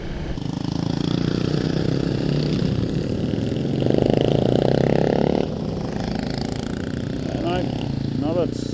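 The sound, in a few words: Honda CRF250 motorcycle engine riding past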